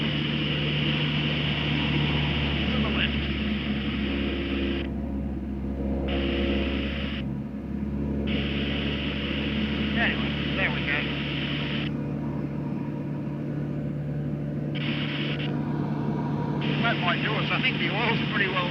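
RV6 light aircraft with a Lycoming O320 engine climbing, a steady, loud propeller drone and cabin rumble that holds constant throughout, with faint intermittent radio or voice hiss.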